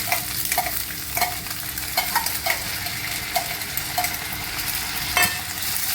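Val beans (birde) stirred in hot oil with onion in a home kitchen, a steady sizzle of frying under repeated scraping strokes of a spoon against the pan, close and continuous with no talk.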